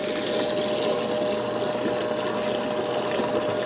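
A livewell recirculation pump runs steadily aboard a Lowe 1436 jon boat, a continuous close hum with a steady tonal whine and constant rushing, splashing water throughout, no talking.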